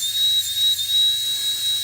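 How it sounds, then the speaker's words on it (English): A rotary tool spins a burr against a duck eggshell being carved, making a steady high-pitched whine with a faint grinding hiss underneath, close and continuous. "that's what it sounds like, the difference in the sound between you pushing too hard and you're letting your burr do the work itself"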